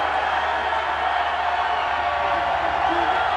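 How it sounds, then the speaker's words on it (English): A rugby crowd at a 2014 Varsity Cup semi-final between NMMU and Pukke roars steadily at line-out time, a continuous wash of massed voices with no breaks. "There's a roar from the crowd"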